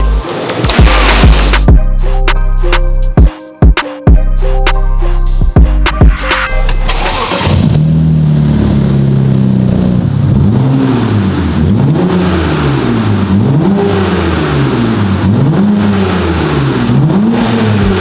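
A drift car engine with turbo and custom exhaust barks and revs hard in sharp bursts, then settles into a loud, rising and falling rev cycle of throttle blips, very close and alone.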